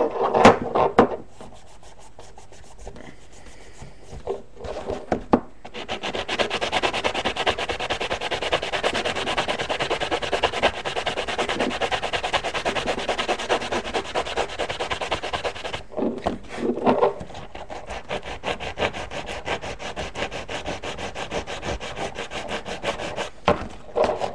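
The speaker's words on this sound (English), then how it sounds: "I'm just going to take this sanding block here, and I'm going to wipe out this portion, clean out that portion" A sanding block rubbing back and forth inside an AGM gas blowback M4 airsoft rifle, a long run of steady rasping strokes close to the microphone, with brief pauses and clicks at the start and end.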